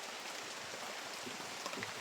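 Rain falls in a steady, soft hiss with scattered faint drop taps, heard alone without voices.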